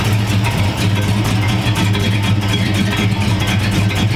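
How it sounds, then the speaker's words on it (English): A 1970 Dodge Charger engine runs loud and steady, a dense rumbling drone that holds without clear revs, recorded up close with no voices. "gonna take the charger out for a quick spin"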